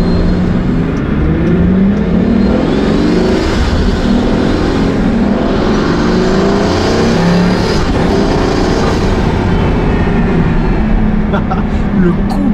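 A Pagani Huayra Codalunga, an 840 hp hypercar, droning loudly from inside the cabin on a narrow road, its engine note rising and falling with acceleration, with someone talking over it throughout.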